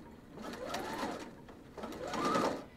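A sewing machine stitches pleats into fabric along pleating tape in two short bursts, each whirring run climbing and then slowing, heard close with no talk.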